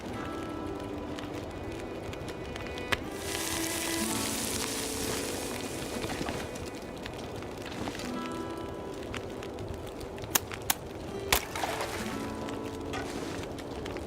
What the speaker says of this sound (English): We're gonna cook this fish first, though.